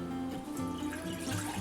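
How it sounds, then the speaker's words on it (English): Pineapple juice is poured into a pan heating on high, giving a continuous close liquid splashing and trickling that runs steadily throughout, with no voices over it. "And you're gonna pour in your pineapple juice."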